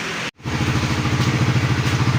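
A Raider 150 Fi motorcycle engine, freshly refreshed after 90k on the odometer and running without its exhaust pipe, chugs with a steady pulsing beat close by after a brief cut at the start.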